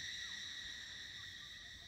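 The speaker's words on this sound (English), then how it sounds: "That is the morning sound of cicadas here at Ayura in Papua New Guinea" A morning chorus of cicadas at Ayura, Papua New Guinea, makes a steady, high, shimmering drone of several overlapping pitches, continuous and moderately distant, with no voices.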